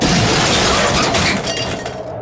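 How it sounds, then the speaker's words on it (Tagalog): Stone burial niches in a cemetery shatter and break in a loud, dense crash of splintering debris that fills the moment and tails off briefly at the end. "bigla namang nabasag ang mga nicho sa paglabas ng mga kamay at mga katawan mula dito"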